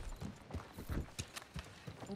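Horse hooves clip-clop in Red Dead Redemption 2, a quiet, steady run of about a dozen soft hoof strikes at an even walking pace.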